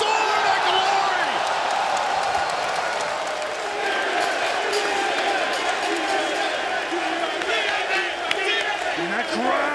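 A wrestling arena crowd in Montreal roars continuously, a dense wall of cheering, whooping and shouting with scattered clapping, loud and steady throughout.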